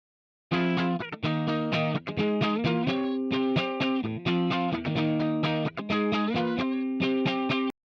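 Distorted electric guitar through a Quad Cortex, recreating a song's tone after switching pickups, playing a steady run of chugging chords, loud and close, with brief gaps between phrases.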